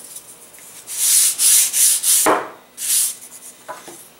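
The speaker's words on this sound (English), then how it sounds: "you can sand off any of the inconsistencies on the top if you like" Soft balsa wood for a model airplane fuselage is sanded by hand in several close, rhythmic rasping strokes, each a breathy scrape, with a brief knock partway through.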